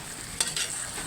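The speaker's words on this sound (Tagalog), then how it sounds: "Halo natin konti." Vegetables such as string beans and eggplant are stirred into a simmering kare-kare stew, a brief scrape and rustle over a soft continuous sizzle, close and moderately quiet.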